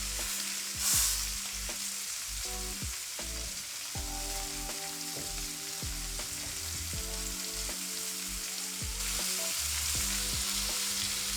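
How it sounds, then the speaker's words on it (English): Pork belly coated in spices sears in a hot pan, a steady close sizzle and crackle running throughout with no talking. "we're just going to let it just seal that other side in with all the different spices"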